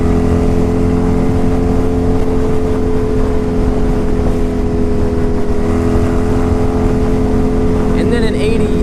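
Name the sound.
1987 Honda Super Magna motorcycle engine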